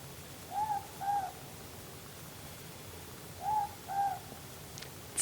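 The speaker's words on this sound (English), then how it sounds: "That's our native owl, the ruru or the mopoke." A ruru, the native morepork owl, calls at night in two spaced pairs of soft two-note hoots, faint and somewhat distant against a quiet background.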